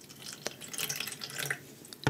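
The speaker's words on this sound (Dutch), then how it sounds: "Zo, een laagje water erin." Water poured into a seedling pot while repotting young French marigold seedlings, a soft splashing and trickling with a few small drips, quiet and close, ending in a brief louder splash.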